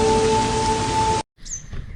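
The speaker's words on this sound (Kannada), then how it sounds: "ಮಳೆ ಶುರುವಾಯಿತು." Rain begins falling over an areca nut plantation behind a house, a steady broadband hiss of drops with a faint tone running through it, then a sudden cut to quieter outdoor sound.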